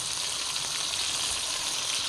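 Golden fried onions and added garam masala sizzle in hot oil in a pan while Peshawari rice is being cooked, giving a steady, close, bright frying hiss with no break.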